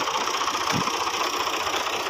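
A vehicle engine running close by while reversing, a steady mid-pitched drone with a slightly knocking, vibrating texture that holds at an even level throughout.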